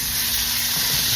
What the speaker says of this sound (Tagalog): I'm gonna pan-fry the mushroom